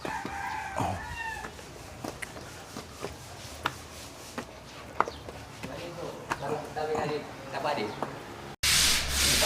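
Hand sanding: rhythmic rubbing and scraping strokes at close range, with a rooster crowing and people talking in the background, ending in a sudden burst of loud noise.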